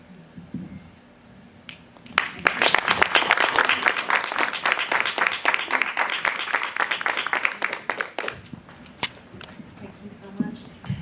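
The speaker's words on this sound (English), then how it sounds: "Let's do one more round of applause for these amazing ladies" At a Carrboro Women's History Month celebration, a crowd breaks into lively applause that swells after a short pause, sustains for several seconds, then tapers off, with talk heard faintly before and after.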